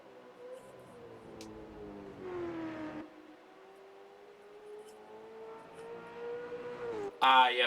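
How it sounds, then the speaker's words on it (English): Sim race cars pulling out of pit lane at Bathurst, engines droning and whining through long steady tones that rise and fall as they pass, moderately loud, ending with a sharp louder burst. "Looks like a nice gaggle of cars coming out of the pit lane."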